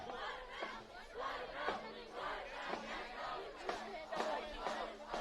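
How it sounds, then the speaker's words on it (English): High school football fans cheer on their Mustangs in a steady, boisterous crowd roar, with rhythmic shouted chants pulsing through a dense mass of voices from the stands. "Hear all the fans cheering on their Mustangs."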